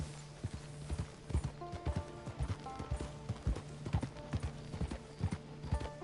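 In Red Dead Online, horse hooves clip-clop in a clear, steady trotting rhythm, fairly close and prominent, with a brief whinny and little else around.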